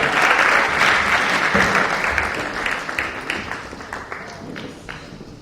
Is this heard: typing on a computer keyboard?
no